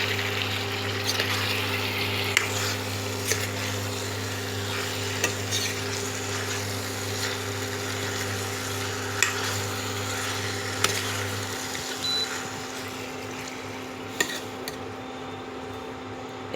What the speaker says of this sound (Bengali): আলু সেদ্ধটা দিয়ে আমি কষাচ্ছি ভালো করে।